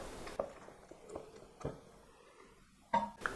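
A spoon stirring bagel dough ingredients, liquid and softened butter, in a bowl for Ukrainian poppy seed bagels, giving a few faint scattered knocks and scrapes against the bowl in a quiet kitchen.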